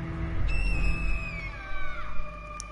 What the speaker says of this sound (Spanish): Y ahí el grito de Kree.